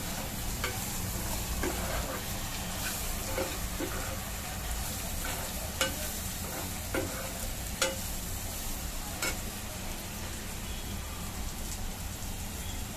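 Green chillies frying for an Indian mirchi fry, with salt and turmeric being stirred in: a steady close sizzle with scattered spoon scrapes and ticks against the pan, no talking.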